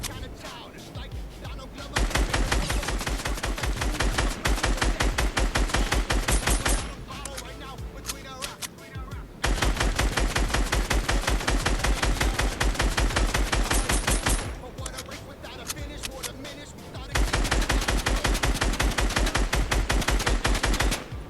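Gunfire in Fortnite Battle Royale, loud sustained bursts of rapid shots in three long volleys of several seconds each, with short quieter gaps between them where a voice talks.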